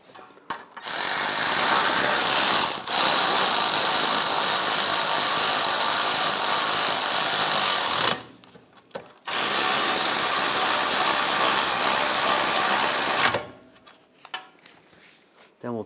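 A power tool, likely a drill or impact driver, runs up new wheel hub bolts on a 2009-2017 Volkswagen Tiguan during rear bearing and hub replacement, with loud sustained whirring bursts separated by brief pauses.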